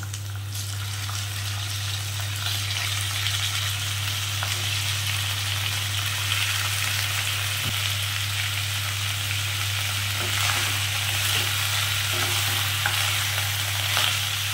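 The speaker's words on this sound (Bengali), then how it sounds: "চিকেনটা দিয়ে আমি একটু ভাজা ভাজা করবো বাড়িয়ে বাড়িয়ে।" Chicken pieces frying with lightly browned onions in a pan, a steady close sizzle that runs throughout with occasional scrapes of stirring and a constant low hum underneath.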